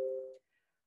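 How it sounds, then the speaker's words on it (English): A short electronic alert tone plays during an online interview event, one steady buzzing beep for about a third of a second, then a faint higher chime trailing off into silence. "Sorry, I will put off notifications."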